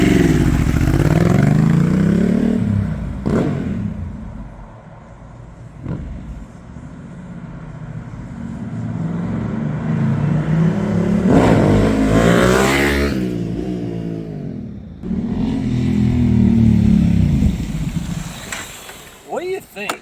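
A 750cc Honda TransAlp motorcycle with a flashed ECU revs and accelerates hard in surges, its engine note climbing and falling several times, loud and close, with a voice heard over it in places.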